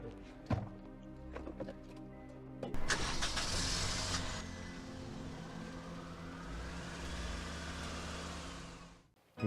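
A car sits idle after a few door and interior clunks, then its engine cranks and catches with a loud burst, settling into a steady idle before ending on a final thump.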